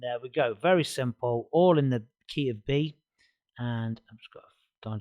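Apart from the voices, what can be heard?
No distinct noise like a dog, phone or traffic.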